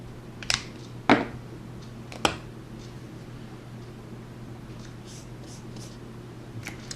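A pen writing numbers on paper: faint scratching with a few sharper taps and strokes, close and sparse, over a steady low background hum.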